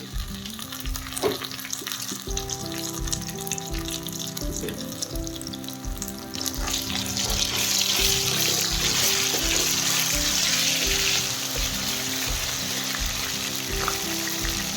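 Ginger-garlic paste frying in hot oil in a pan for a fenugreek leaf and egg palya, a steady loud sizzle that swells and grows brighter partway through, with faint stirring and no talking.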